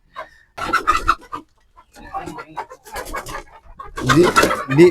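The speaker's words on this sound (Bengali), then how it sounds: "এখানে মুরগি আছে টোটাল কত ছাব্বিশটা মোরগ সহকারে আঠাইশটা আছে দুইটা মোরগ আর বাকিগুলো সব মুরগি" A farm flock of twenty-six hens and two roosters makes short, close bursts of clucking and squawking, separated by brief quiet gaps and growing busier toward the end.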